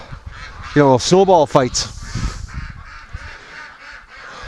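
Breeding ducks playing in a tub on a snowy winter day, several loud nasal honking quacks in a quick burst close by, with a person talking briefly over them and quieter background after.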